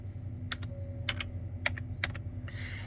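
Quiet laptop keyboard typing in short clustered bursts of key clicks, close by, over a low steady electrical hum, with no talk.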